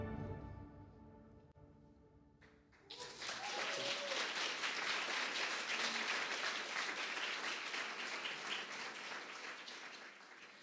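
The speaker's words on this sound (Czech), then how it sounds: "děkujeme za potlesk" A conference audience bursts into broad, sustained applause after a few quiet seconds, many hands clapping at once in a large hall and holding steady before easing slightly toward the end.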